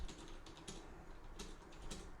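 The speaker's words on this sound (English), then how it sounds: "I'm typing away" Soft, steady typing on a computer keyboard, close but quiet, with irregular clusters of light key clicks over a low background hum and no talking.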